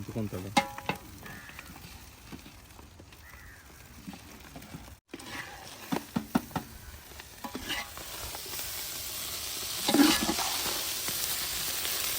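Fried rice with sea fish cooks in a pan in a village kitchen, with steady sizzling under repeated scraping stir strokes and occasional clinks, growing louder toward the end.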